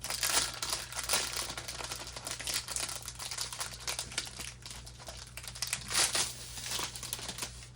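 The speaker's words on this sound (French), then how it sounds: "c'est emballé dans du papier plastique comme ceci" Plastic wrapping around a 60 cm square diamond painting kit crinkles and crackles steadily for several seconds, close up, with denser bursts of rustling at moments and no talking.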